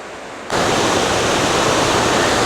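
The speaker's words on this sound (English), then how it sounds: "the water creates a little tub right there, where the water stays for a while, spinning around until it finally starts flowing down" Water swirls in a rock tub and pours down at Seven Tubs Nature Area near Wilkes-Barre, Pennsylvania. A steady, close, loud rush of falling water begins after half a second of quiet and continues unbroken.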